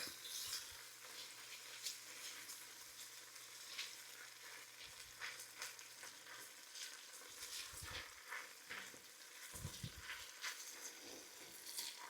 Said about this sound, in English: mix that in with the onions and garlic